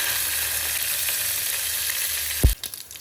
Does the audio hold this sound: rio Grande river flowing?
no